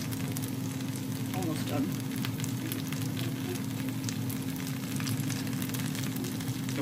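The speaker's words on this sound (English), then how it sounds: "deep fry these" Food deep-fries in hot oil with a continuous close sizzle and bubbling, while a person speaks briefly over it.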